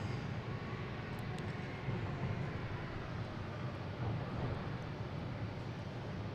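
An American Airlines airliner taking off at Boston Logan, heard as a steady, broad jet roar at moderate distance that holds level throughout without interruption.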